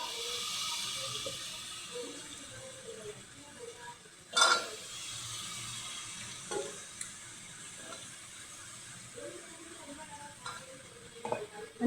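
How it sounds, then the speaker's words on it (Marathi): Chopped kohlrabi tipped into a pan and stirred, a faint sizzle with soft scraping and an occasional sharper clank of the spoon, quiet and close with no voices. "आता जे आपण कट करून घेतले होते नवलकोण ते घालतो त्याच्यामध्ये"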